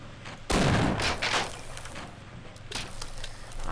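Gunfire in the Half-Life video game: a loud, sharp shot bursts out with a booming tail, followed a couple of seconds later by a second, lighter report amid game ambience.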